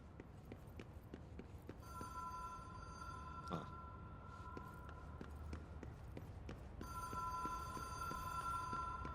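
A telephone in a PC video game rings twice in long electronic trilling bursts over a rhythmic ticking background, with a clunk between the rings, fairly quiet overall.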